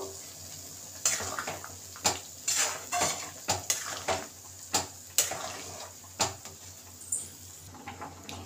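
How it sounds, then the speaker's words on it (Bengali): A spoon stirs spiced tempering into dal in a metal pot, making about a dozen sharp clinks and scrapes at an uneven, unhurried pace over a quiet kitchen background. "এবার আমি ডালের মধ্যে মশলাটাকে আস্তে করে ঢেলে দেবো। একটু নেড়ে দেবো।"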